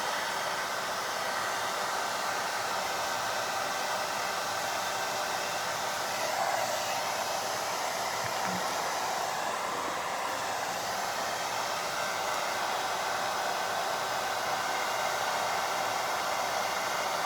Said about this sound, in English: So another thing I like to do while I'm blow drying it